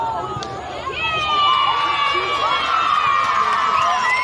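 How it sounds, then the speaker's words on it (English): A student section cheers from the West Orange bleachers at a high school boys soccer game, a sustained mass of voices that grows louder partway through and keeps going, with whistles and shouts rising from the crowd. "Bit of a student section has formed here in the West Orange bleachers, as you can hear the cheering"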